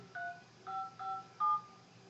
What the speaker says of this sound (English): Let me dial that other phone number there and see if it works.